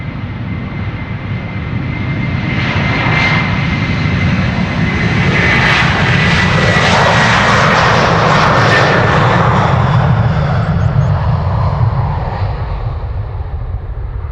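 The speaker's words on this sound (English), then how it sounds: "KLM flight 641 to New York JFK A330-200" KLM Airbus A330-200, an 18-year-old airliner departing Amsterdam Schiphol for New York JFK, roars past up close, its loud jet engine noise swelling and then easing slightly, with no voices.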